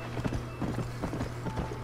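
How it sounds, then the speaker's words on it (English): A horse gallops at speed in Red Dead Redemption, steady quick rhythmic hoofbeats close up and fairly quiet, running throughout without speech. "This horse is fast."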